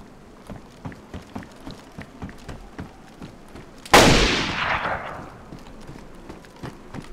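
A single loud gunshot or explosive blast rings out in the DayZ video game, sharp and close, with a long decaying tail, set against a steady run of soft rhythmic footstep-like thuds before and after.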